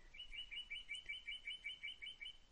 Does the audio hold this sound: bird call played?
yes